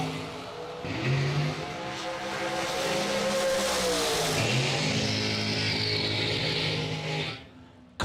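A shorty dragster and another drag car launch at a bracket racing event, engines roaring loudly and steadily for several seconds before cutting off, with no talking.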